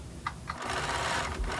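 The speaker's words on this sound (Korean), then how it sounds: "먼저 재봉틀로 바느질을 해준 다음에 오버록 스티치로 끝 처리를 했습니다." A sewing machine runs steadily, stitching a dolman-sleeved hooded cardigan. Its motor hums continuously at close range, with a couple of brief clicks near the start and no talking.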